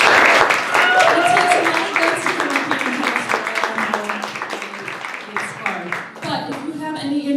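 Audience applause for storytellers at a monthly live storytelling show, dense and sustained clapping from a crowd that slowly thins, with voices and cheers mixed in.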